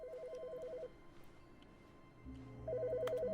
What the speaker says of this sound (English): What, the phone's ringing?